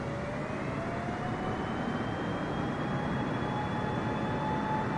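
Steady, loud drone of a propeller airplane engine in a flight video game, with rising engine-tone lines over continuous broadband roar and no pauses.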